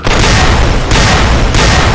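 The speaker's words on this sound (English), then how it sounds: "I'm pretty sure all three of them just threw dynamite at me." Dynamite thrown by powder gangers explodes in a wasteland video game: three loud, close, roaring booms in quick succession, each a dense blast that rolls straight into the next.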